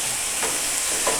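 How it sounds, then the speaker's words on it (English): Smash burger buns sizzle on a griddle with bacon fat and a little maple, a steady close hiss of frying with no talk over it. "Can you hear the sizzle?"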